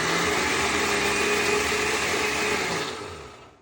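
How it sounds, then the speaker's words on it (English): A blender whirs at high speed with a steady, buzzing roar that winds down near the end. "it takes a little bit for the blender to get going"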